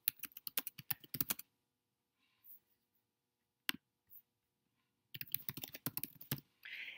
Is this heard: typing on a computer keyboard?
yes